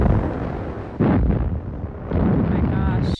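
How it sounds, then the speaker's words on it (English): Heavy artillery guns firing down onto a beach in a wartime documentary, two loud booming blasts with rumbling roll-off, set against a dense background. "These guns were pointed and firing right down on the beach."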